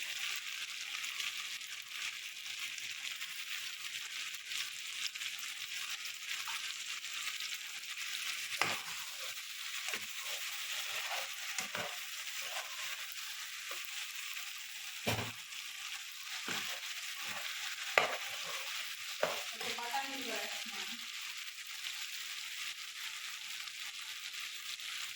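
Potato, brinjal and tomato curry cooking in a pan, a faint steady sizzle running throughout, with scattered soft stirring knocks and clinks partway through.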